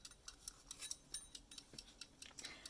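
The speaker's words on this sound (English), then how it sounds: "And you'll hear the clicking in the background." A kitchen timer set for twenty minutes ticks steadily in a quiet room, faint and close, a regular run of small clicks with nothing else over it.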